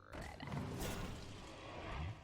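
A deep, croaking frog call from Hearthstone cards being played, a low rumbling croak that swells and holds for about two seconds, fairly quiet and heard alone.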